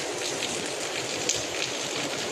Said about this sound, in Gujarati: ગજબ વરસાદ આવી ગયો હતો